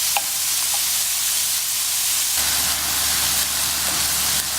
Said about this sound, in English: I put my mince in. You can hear it sizzle.